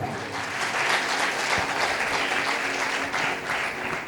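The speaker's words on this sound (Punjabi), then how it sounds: "ਤਾਲੀ ਮਾਰੀਏ ਜ਼ੋਰ ਦੇ।" A congregation claps loudly during a sermon, a dense, even wash of many hands sustained for several seconds without speech.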